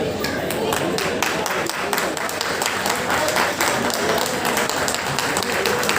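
Audience clapping at a community honouring ceremony for elders, held by a Brahmin society in Navi Mumbai; dense, steady applause fills the space continuously, with a voice talking over it.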